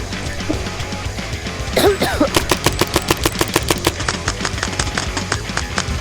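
Paintball markers fire during an outdoor skirmish in a fast, rapid string of sharp pops lasting several seconds, with a brief shout or gasp just before the volley begins.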